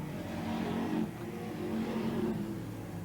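BriSCA Formula 1 stock cars race down the home straight at Hednesford in 1992, a distant, faint roar of engines swelling and fading as cars pass, with crowd-like ambience beneath.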